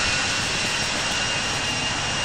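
A Boeing 747 jet engine in the Infinite Flight Simulator game, a steady loud roaring drone with broad hiss that holds constant throughout without change or talking.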